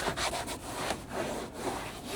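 Brisk scrubbing of a Volkswagen Sportwagen with Koch Chemie Korrosol, a rapid rhythmic rubbing of short repeated strokes close to the microphone.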